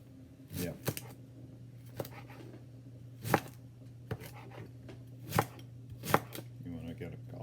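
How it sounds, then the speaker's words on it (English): A knife slicing leeks into thin half moons on a cutting board, with a handful of sharp, spaced chops over a steady low hum in a kitchen. "you're going to cut them into thin half moons"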